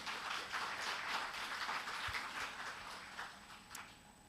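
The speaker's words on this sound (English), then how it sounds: "Another round of applause for Becky." Dense, sustained applause from a conference session audience, a steady wash of many hands clapping at moderate distance, holding fairly even for several seconds before thinning slightly toward the end.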